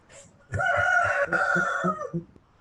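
A rooster crows once, loud and close, in a single long drawn-out call after a short faint cluck, with no talk over it.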